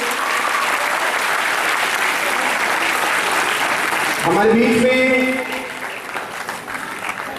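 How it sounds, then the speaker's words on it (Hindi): Applause fills a Hindi-language theatre festival opening ceremony, a dense, steady wash of clapping from the audience for about four seconds before a voice begins speaking over the fading claps. "फिर से ब्लैक पर्ल्स आर्ट दिल्ली के लिए जोरदार तालियां हो जाएं"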